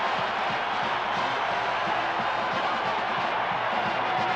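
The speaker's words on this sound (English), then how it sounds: "a delirious crowd roars its approval" A packed basketball arena crowd at the 1985 NCAA Final Four roars in a steady, loud, dense wall of cheering that holds unbroken throughout.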